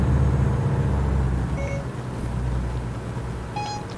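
Two short electronic notification beeps from a phone, about two seconds apart, cut through the steady low rumble of a truck engine in American Truck Simulator.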